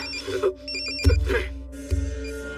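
A telephone rings in short loud bursts, two clear rings about a second apart inside a home, with a faint tonal background and no speech.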